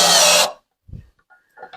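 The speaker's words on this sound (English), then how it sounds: "good old Harbor Freight drill" A Harbor Freight cordless drill whirs loudly in one half-second burst, then cuts out, followed by a few faint clicks and handling knocks.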